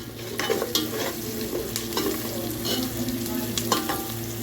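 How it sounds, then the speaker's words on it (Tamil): Onion sautéing with ground tomato and green chili in a pan for an amaranth greens kadayal: a steady, close sizzle broken by repeated spoon scrapes and stirs, with no voices. "வெங்காயம் வதங்கிட்டு இப்போ அரைச்சி வச்ச தக்காளி பச்சை மிளகாய் சேர்த்துருக்காங்க"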